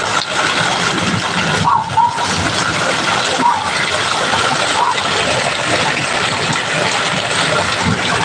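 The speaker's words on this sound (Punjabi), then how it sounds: "ਤੇ ਅੱਗੇ ਤੱਕ ਆ ਗਿਆ ਪਾਣੀ ਕਿੱਥੋਂ ਆਉਂਦਾ ਭਾਈ ਦੇਖੋ" Floodwater after heavy rain rushes through a village in Punjab, a continuous loud gushing wash that fills the scene, with a few faint voices in the background.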